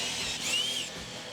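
A drill brush scrubs a wet Tesla Lasfit floor mat, giving a steady close whirring hiss with a brief rising whine as the bristles bite, no talking.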